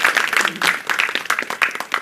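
Audience clapping at a kavi sammelan poetry recital, a short round of sharp, uneven hand claps close by that rises and falls over two seconds.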